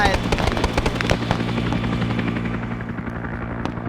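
A helicopter with a door gunner in a military video game, its loud rotor thump running throughout with rapid bursts of gunfire layered on top.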